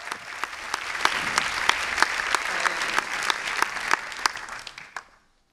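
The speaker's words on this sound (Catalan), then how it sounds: "Fora aplaudiment per la màquina de malabars" An audience at a business gala gives a round of applause for a juggling machine act, dense clapping with distinct sharp claps standing out, then quickly dying away into silence at the end.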